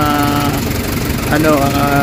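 Idling engine of a Nissan Vanette van with low power and throttle delay, a rough rumbling drone with some knocking texture, close by, while someone talks over it.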